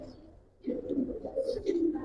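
Old-breed Giribaz pigeons give low, rolling coos close by, the first half-second near silent before a steady run of throaty cooing swells and carries on to the end.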